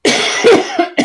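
A single close, harsh cough breaks into a few rapid bursts over about a second.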